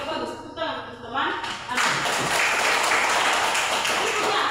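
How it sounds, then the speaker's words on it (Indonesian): A classroom of students claps for a classmate, with brief speech at the start before the clapping bursts in and continues steadily to the end. "Tepuk tangan untuk teman."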